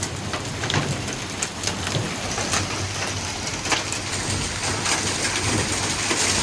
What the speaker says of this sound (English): This is the worst hailstorm I've seen in probably 10 years or more.